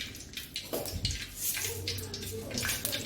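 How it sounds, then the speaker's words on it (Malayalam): Ten spoons of sunflower oil pour into a very hot pan (chatti) while making a country-style chicken curry, a loose liquid rush and sizzle with brief splashy bursts at close range. "അപ്പോൾ 10 സ്പൂണ് സൺഫ്ലവർ ഓയിൽ ഒഴിക്കുക"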